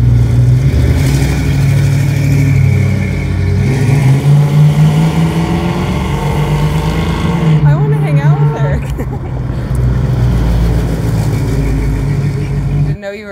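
A 1968 car engine revs loudly and close by, holding a steady drone with rising and falling pitch, while people talk and chatter over it throughout.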